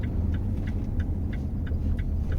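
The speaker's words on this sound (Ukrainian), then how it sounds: "От Зараз вона вже включила третю на 40" Inside a moving Chevrolet Captiva, a low steady engine and road rumble continues with faint regular ticking and no speech.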